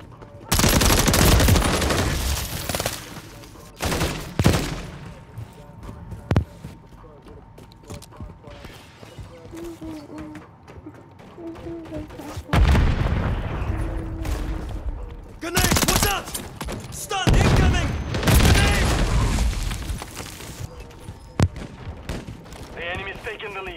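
Bursts of automatic gunfire and single shots ring out in the Call of Duty video game, loud and close in several volleys, with mechanical clanks between and someone talking over the action.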